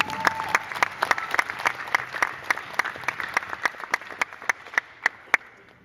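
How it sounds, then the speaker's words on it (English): An audience at an Assassin's Creed convention panel at SacAnime claps in crisp, fairly regular beats, a modest crowd applauding steadily for several seconds with no talk over it. "Can we all applaud Ubisoft for doing this work to make it better?"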